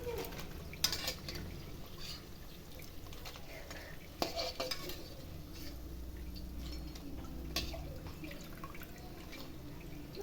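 Kurkure snack dough frying in hot oil over a high flame gives a steady, dense sizzle with occasional light clinks and sharper crackles from the pan.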